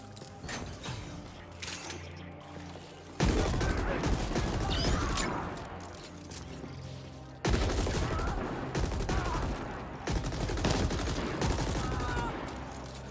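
Guns firing in The Ascent, long sustained bursts of rapid automatic fire with metallic mechanical clatter, loud and close, pausing and restarting in heavy volleys.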